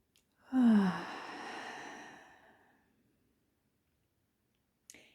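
One slow, deep breath taken outdoors on a sunny hiking day: a loud inhale swells, then a long, softening exhale fades to silence, and a faint click follows near the end.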